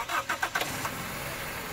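A Toyota Corolla engine cranks with a few quick starter bursts, then catches and settles into a steady idle, heard close up with no talking.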